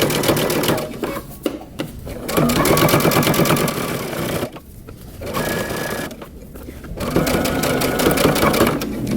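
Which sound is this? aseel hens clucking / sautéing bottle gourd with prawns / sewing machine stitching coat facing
sewing machine stitching coat facing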